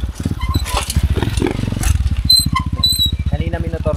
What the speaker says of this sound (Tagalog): May dumadaan naman ng mga motor.